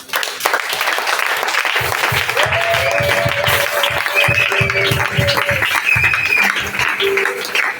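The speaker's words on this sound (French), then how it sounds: "Tu vas voir les gens acclamer le Seigneur." A church congregation claps and cheers in praise, producing dense, loud, sustained applause with rhythmic clapping and voices calling out over the top, continuing throughout.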